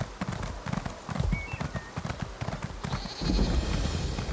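Horse hooves clip-clop at a steady trot in Elder Scrolls Online, loud and close over a busy game soundscape with a faint high tone and a rising wind-like wash near the end.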